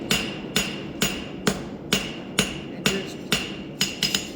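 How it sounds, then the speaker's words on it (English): Steady hammer blows ring on the heel of an anvil while a horseshoe is shaped for a bar shoe, about ten sharp metallic strikes at a roughly even half-second rhythm, close and loud with no talk. "And then come out here on the heel of my anvil."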